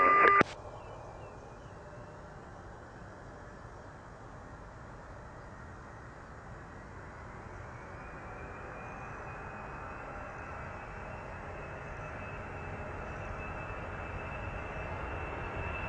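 Engines of a PIA Boeing 747-200 roar in a steady, broadband cabin drone during a missed approach go-around, slowly building in loudness after a brief click at the start, with no voices.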